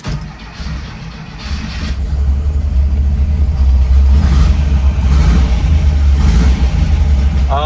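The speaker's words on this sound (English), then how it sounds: "Will this car drive under its own power for the first time in 3 years?" A project car's engine running for the first time in three years, idling then building in a loud, deep, steady rumble as it pulls away under its own power, close by and with no talk.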